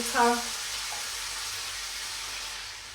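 Tap water runs into an emptied tomato tin to rinse it, a steady soft hiss that continues after a brief voice at the start.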